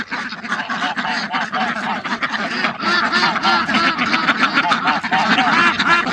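A flock of ducks at a farm pond quacks loudly and near, overlapping calls building in density, with honks mixed in and no voices over them.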